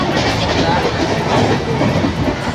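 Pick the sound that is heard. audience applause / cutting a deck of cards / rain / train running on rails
train running on rails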